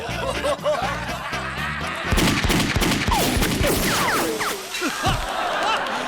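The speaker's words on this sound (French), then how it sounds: "Il tire avec des vraies balles maintenant." Gunfire from an animated Lucky Luke cartoon with the Dalton brothers: a burst of several sharp shots sounds after about two seconds, mixed with voices and laughter in the scene.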